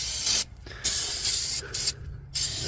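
An aerosol cleaner sprays onto the engine and transmission of a Mercedes CLK63 AMG convertible with the M156 6.3L V8. Several loud, close hissing bursts are separated by short pauses.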